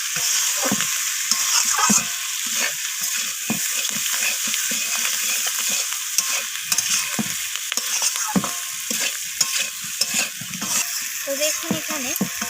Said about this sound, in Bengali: তো ধনিয়া পাতাটা দিয়ে আমি আবারও কষিয়ে নিচ্ছি।